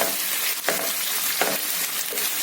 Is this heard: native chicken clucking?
no